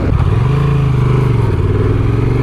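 A 2024 Honda Transalp 750 motorcycle rides along steadily, its mid-pitched engine droning loud and close with a slight rise in pitch early on, under constant wind rush and no talking.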